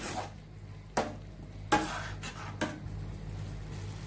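Vegetable korma masala with Kashmiri chilli powder sautés in a pan under a soft, low sizzle, cut by several sharp clinks and scrapes of a spoon against the pan. No voices.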